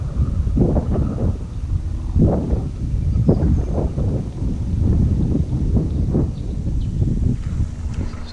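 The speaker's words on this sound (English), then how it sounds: "It's a little bit windy." Steady wind rushes and buffets against the microphone at the Governor's Chair lookout on Mount Mathieson, with low gusty rumbles swelling and fading throughout; no voices.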